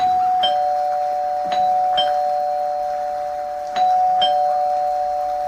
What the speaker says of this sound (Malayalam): ഞാൻ വീടിന്റെ കോളിംഗ് ബെൽ അമർത്തി